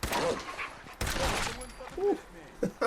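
Gunfire in the video game Fallout 4 during a fight with hostile dogs: several sharp loud shots burst out, one near the start and a strong one at one second, with a speaking voice over the action.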